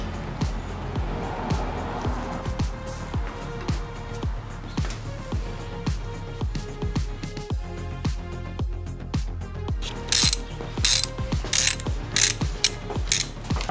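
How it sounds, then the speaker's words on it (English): A ratchet wrench clicks steadily in quick repeated strokes, close and distinct, while removing the tensioner from a Honda Prelude H23A engine, with a brighter burst of clicking toward the end. "So right now we're taking out the tensioner."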